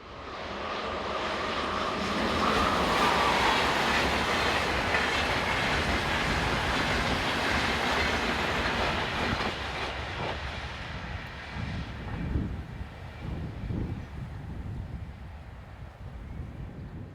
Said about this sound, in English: Locomotive 101082 powers through with the 11:49 Berlin to Stuttgart Fridays only